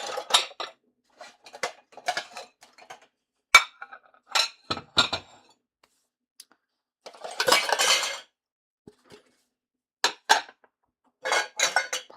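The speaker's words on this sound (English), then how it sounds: "Pardon all the sounds of the dishes moving." Dishes, bowls and cutlery clink and clatter as they are moved and stacked away in a kitchen, sharp irregular knocks and rattles in scattered bursts, with one longer scraping jumble midway and quiet gaps between.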